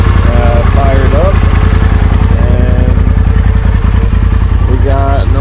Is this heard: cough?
no